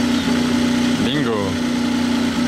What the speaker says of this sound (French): Il a allumé le moteur V6 de Formule 1, ça y est.